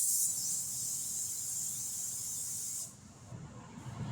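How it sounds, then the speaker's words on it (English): Vegetable cooking spray hisses steadily from a can into a loaf pan for nearly three seconds, then cuts off abruptly, leaving faint room noise. "Let me grab my vegetable spray. I'll spray this."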